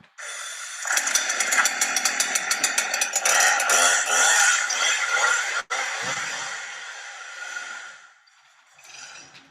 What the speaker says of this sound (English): you kind of have to listen past the chainsaw